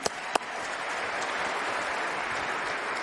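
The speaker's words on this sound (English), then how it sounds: "You guys should give yourselves a round of applause." A room of chefs at an awards ceremony breaks into dense, steady applause, a continuous wash of clapping after a couple of sharp opening claps.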